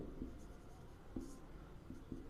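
Chalk or marker writing on a classroom board, a faint scratchy stroke sound with a few soft taps as strokes begin, quiet and close, with no talk.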